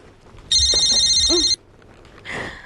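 A telephone rings in one long, loud electronic trill lasting about a second, followed by quiet and a brief soft rustle.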